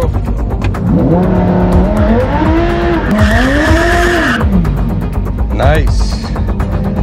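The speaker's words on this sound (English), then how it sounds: "let's put it in sport, manual, ESC off so we can do a little dry hop burnout" Corvette C8 Z06 in sport mode with manual shifting and stability control off, doing a dry hop burnout: loud, close engine revs that swell and fall, with a burst of tire squeal in the middle and a brief shriek near the end.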